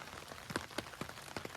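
Rain patters on a surface in an old town, scattered close drops tapping at an uneven rhythm over a soft, steady background.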